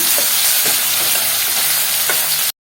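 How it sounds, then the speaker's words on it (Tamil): Vegetables for a chapati and poori masala sauté in a hot pan with a steady, close sizzle and occasional stirring scrapes, cutting off abruptly. "இது கொஞ்சம் நேரம் நல்லா வதங்கட்டும், பச்சை வாசனை போகிற வரைக்கும்"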